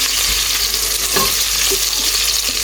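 Onions hiss and sizzle steadily in hot oil in a pot as they are stirred, giving a continuous bright frying crackle with a faint scrape of stirring and no voices.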